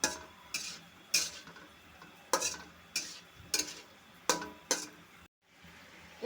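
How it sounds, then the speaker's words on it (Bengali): A spoon scrapes rhythmically through a frying pan as chili powder is mixed into a sizzling chichinga and lentil bori curry. There are about eight evenly spaced strokes over a faint, steady fry. "ভালো করে মিশিয়ে নেব।"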